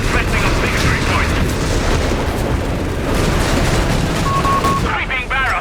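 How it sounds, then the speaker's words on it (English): An artillery barrage in the World War II strategy game Company of Heroes 3 fills the stretch with dense, loud rumbling booms and gunfire, a brief tonal game cue sounds near the end, and a voice is heard briefly. "Sweeping barrage underway. Brace for impact."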